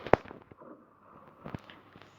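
Tank cannon fire in the video game World of Tanks: one sharp, loud blast, then a second softer shot about a second and a half later, over a low rumbling game background.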